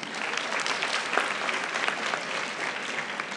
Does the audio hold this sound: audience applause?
yes